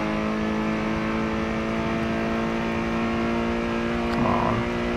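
A Ford Fiesta ST in Forza Motorsport 7 holds full throttle at Lime Rock, giving a loud, steady, high-revving engine drone with a brief pitch shift near the end.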